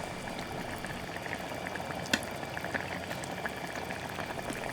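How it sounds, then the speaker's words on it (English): A red bean mixture comes to a boil in a pressure cooker set to sauté mode, giving a steady, dense bubbling and simmering hiss with occasional small pops, fairly quiet and unbroken throughout. "Pressure cooker is still in saute mode, so I'm just going to bring this mixture to a boil."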